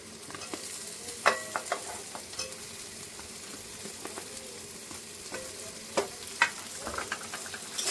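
Potatoes stirred into fried-down masala in a pan for catla fish curry with drumsticks: steady scraping and stirring over a continuous low sizzle, with sharper clinks of the spoon against the pan now and then. No one speaks.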